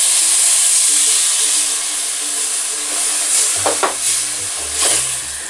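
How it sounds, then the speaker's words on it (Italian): Rice and pioppini mushrooms in a risotto pan sizzle and hiss steadily after a splash of dry white wine, with a few stirring scrapes and clunks near the end. "Sfumiamo con del vino bianco secco."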